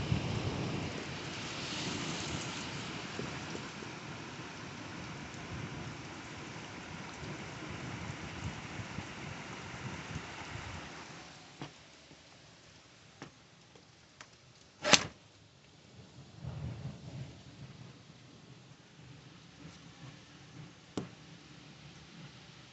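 Heavy rain during a flooding storm, a steady hiss that eases midway, broken by a sharp nearby thunder crack and a few scattered rumbles and clicks.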